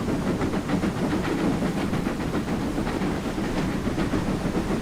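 Steam train in Train Simulator climbing a steep grade on the Riviera Line in the 1950s, a loud, steady rhythmic chuffing with hiss and rail clatter, continuous throughout.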